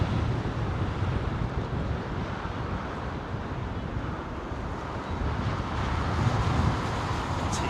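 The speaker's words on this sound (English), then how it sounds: "It's definitely quite blustery here." Blustery wind buffets the microphone at Heathrow Airport beside runway 27R, a steady, loud, rumbling roar that rises and falls gently throughout with no voices over it.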